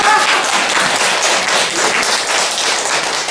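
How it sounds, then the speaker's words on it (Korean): An audience at a parenting lecture breaks into loud, close, dense clapping that holds steady throughout the short stretch, with no talk over it. "이 박수 쳐야 돼"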